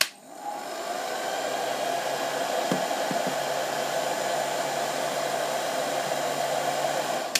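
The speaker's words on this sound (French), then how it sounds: "je vais allumer le sèche-cheveux" A hair dryer blows steadily and loudly for several seconds, heating a label to peel it off, a constant whooshing hum with a brief click near the start.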